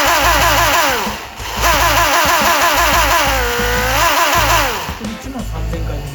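A Toyota 4A-GE engine revving hard at very high rpm: loud, continuous wailing with repeated quick rises and falls in pitch, heard close up with voices faintly underneath.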